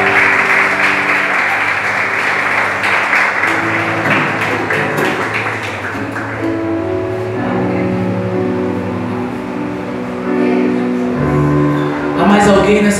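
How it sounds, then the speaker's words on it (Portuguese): Church congregation clapping during an evangelical service, a loud sustained round of applause mixed with music and voices throughout. "Vamos aplaudir o Senhor"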